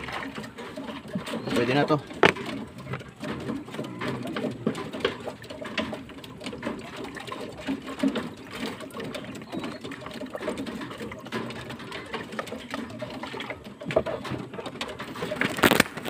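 Racing pigeons coo softly and repeatedly close by, mixed with a persistent mechanical rattle, while someone speaks Filipino intermittently over them.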